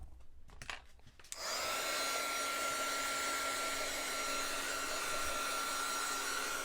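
A hair dryer switches on after a few faint handling sounds and runs in a steady, loud, close whir with a constant tonal whine, drying a mixed media art journal page.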